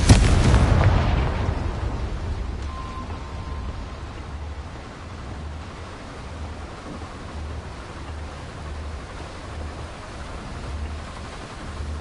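A Confringo blast spell from the video game Hogwarts Legacy erupts as one loud explosion, then a low rumbling tail and steady background hum fill the rest of the stretch.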